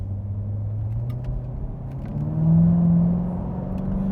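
A 2016 Corvette C7 Stingray engine drones steadily at low pitch, swelling briefly as the revs rise, then settling into a smooth cruising hum with road noise.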